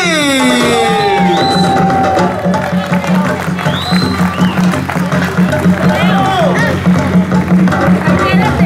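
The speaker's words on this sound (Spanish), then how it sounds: "Fuertes aplausos para las señoritas, for the beautiful ladies" An audience at a Mexican show in Cancun applauds the dancers, with steady clapping and cheering under an announcer's amplified voice and whistling or music-like tones above.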